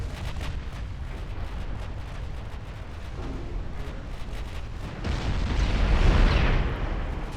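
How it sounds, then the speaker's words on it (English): Heavy naval gunfire from battlecruisers trading salvos in a 1926-era dreadnought battle, with repeated deep booming reports rolling under constant rumble and a louder, sustained blast swelling near the end. "Holland again firing at Paqueta, still at the head of the battlecruiser formation"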